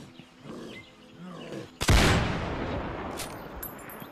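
A single loud gunshot fired by the player in a VR survival game, played on Quest 2, cracks sharply midway and rings out in a long decaying tail after some quiet talking beforehand.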